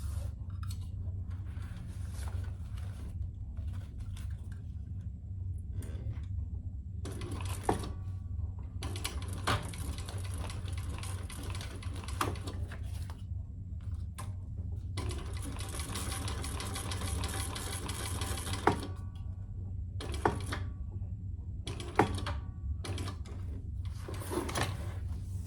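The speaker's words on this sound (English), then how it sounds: "I'm gonna stitch below that first card slot" A sewing machine stitches a wallet just below the first card slot, running in a series of short and longer bursts separated by quiet pauses, close by and with no talking.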